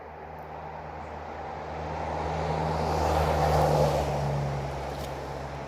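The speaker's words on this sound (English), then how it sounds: "Here comes a car." A car passes on a coastal highway near the Pacific on a chilly morning, its tire and engine rush swelling from a steady outdoor hum to a peak midway and then easing off as it moves away.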